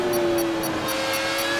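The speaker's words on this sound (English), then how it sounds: "And you can hear how joyful the car is." McLaren Formula 1 car engine in the video game F1 2018, a steady high-pitched whine held near and loud with a faint rising tone and no talk.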